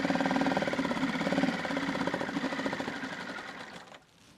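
A small outboard motor runs with a rapid, buzzing mechanical chatter that holds steady and then sputters and dies out, leaving near silence at the end.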